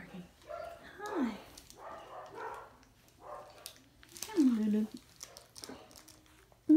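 A 5.5-week-old puppy barks and yips in high, whiny bursts, several short ones followed by a louder drawn-out yelp, close by, with a person talking softly between them.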